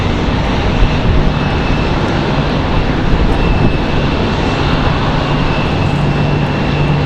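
JetBlue jet airliner at Raleigh-Durham International Airport, a continuous broadband engine roar that stays steady and loud throughout, with no voices over it.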